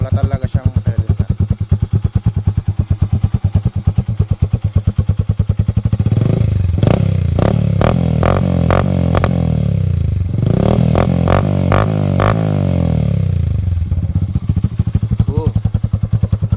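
A Yamaha SZ motorcycle with no silencer idles loudly and harshly, then is revved in a series of sharp, rising bursts, very close and raw, with a voice faintly under the engine noise.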